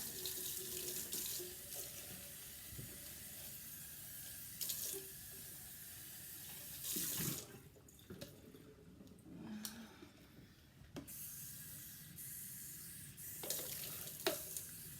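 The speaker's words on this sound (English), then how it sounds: "start rinsing as soon as I'm done dyeing" Water runs steadily from a tap into a sink while freshly dyed fabric is rinsed beneath it, a continuous close splashing hiss with a few brief surges and gurgles.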